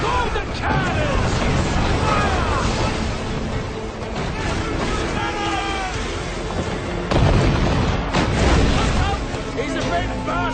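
Ship cannons firing in a naval battle in Assassin's Creed IV Black Flag, heavy booms and blasts layered densely over music and shouted crew voices throughout.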